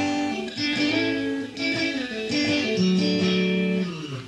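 A 1990 PRS electric guitar on the outside-two-coils pickup setting plays a strummed chordal passage with a bright, jangly, fairly open tone. Several chord changes ring out over about four seconds at steady moderate loudness, alone.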